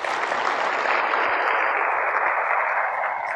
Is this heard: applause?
yes